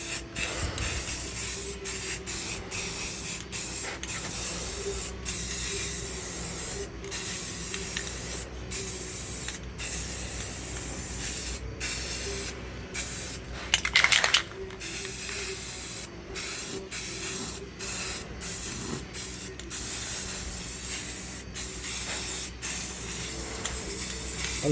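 Coating sprayed onto the welds of a Jeep J10 floor, a continuous hissing spray broken by many short pauses, with one louder, harsher burst midway; close and steady, no talking.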